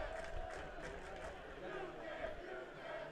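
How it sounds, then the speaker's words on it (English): Student section crowd cheering at a college football game, Dakota Wesleyan at Dakota State, heard as a faint, distant, continuous roar of voices rising and falling. "just judging by how the student section is cheering"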